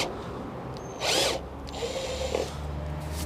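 An electric drill bores a 12 mm hole in a Foden truck with a Cummins engine, giving one short loud whine of about half a second over steady low workshop hum, then quieter grinding.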